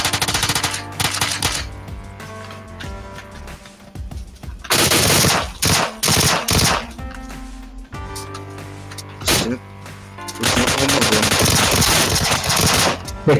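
Bursts of automatic gunfire from the PUBG Mobile battle royale game, several loud rapid volleys separated by short gaps, mixed with engine and game noise.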